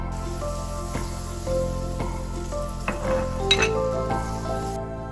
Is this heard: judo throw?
no